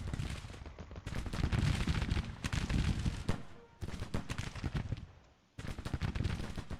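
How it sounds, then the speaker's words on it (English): Artillery cannon fire in the video game Grand Tactician, set in the American Civil War in summer 1863: repeated heavy booms and crackling volleys in rolling bursts, with brief drop-outs between them. "Cannons, cannons."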